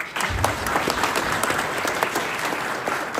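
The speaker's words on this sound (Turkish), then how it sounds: "Hadi bu çocuklarımıza bir alkış." An audience at a gendarmerie oath ceremony in Iğdır claps for children, dense steady applause ringing out loud and close for a few seconds.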